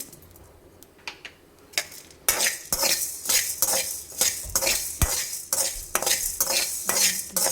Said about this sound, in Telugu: ధనియాలు జీలకర్ర మెంతులు ఇవైతే మంచిగా వేగిపోయినాయి కదా